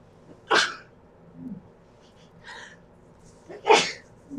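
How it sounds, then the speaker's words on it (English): Two sharp sneezes, one early and one near the end, with softer breathy sounds between them; close and fairly loud. "I feel a sneeze coming on."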